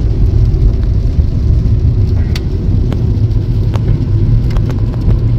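A car cruises along a quiet highway with a loud, steady low rumble of engine and road noise from inside the cabin, plus a few faint clicks.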